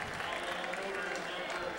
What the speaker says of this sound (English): this crowd is getting pumped